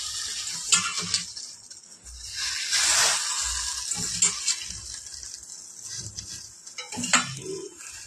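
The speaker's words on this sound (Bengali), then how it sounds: "পালং শাকটা আমি ধুয়ে নিলাম, এবার গরম জলের মধ্যে একটু ভাবিয়ে নেব।" Washed spinach is blanched in hot water in a pot, heard as bursts of watery stirring and sloshing with light metal clinks of utensil against the pot, close up and without speech.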